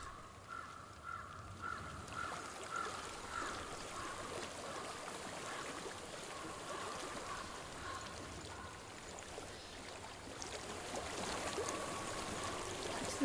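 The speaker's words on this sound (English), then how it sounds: "I hear water. Go to it." Water flows steadily in the game Hellblade: Senua's Sacrifice, a soft, continuous trickling stream set in a quiet ambience. Faint crow caws are heard early on and there is no talk.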